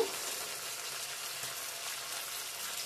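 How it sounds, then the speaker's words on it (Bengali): Soaked potatoes and spices are fried and stirred in a pan, producing an even, close hiss of sizzling oil that stays steady without pause. "ভালো করে কষিয়ে নেব। পুরো মশলাগুলো এখন দিয়ে দেব।"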